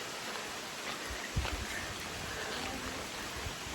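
Rain falls at Imugan Falls in Sta. Fe, Nueva Vizcaya, as a steady, even hiss with no clear drops standing out, broken once by a brief dull thump.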